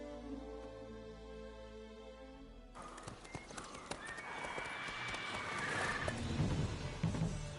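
Roach, a horse in The Witcher 3, whinnies and snorts, then hooves clop steadily under game music, the hoofbeats growing louder and busier toward the end.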